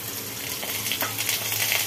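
Drumstick (sajna) pieces and potatoes fry in oil with cumin, a close, continuous crackling sizzle with a few stirring clinks and scrapes, loud and unbroken.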